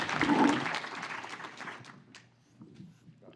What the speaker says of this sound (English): All right, round of applause.